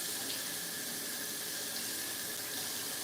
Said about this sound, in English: I'm just using water. I'm going to rinse it off first.